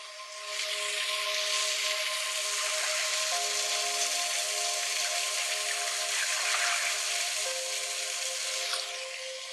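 Steady, soothing water white noise for sleep, a continuous broadband hiss with a faint tonal hum beneath, holding even and close for nearly the whole stretch before fading at the end.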